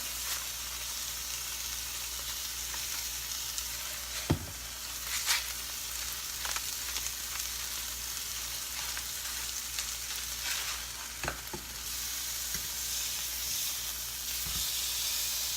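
Pork cutlets frying in a pan for pork piccata, a steady close sizzle and hiss with a few sharp pops and crackles, alone with no talk.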